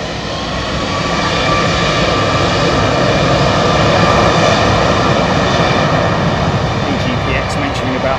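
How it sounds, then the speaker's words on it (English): A jet airliner takes off at London Heathrow with a loud, sustained engine roar that fills the whole stretch, broad and steady, and a voice talks over it. "the aircraft taking a little bit longer to take off, to rotate"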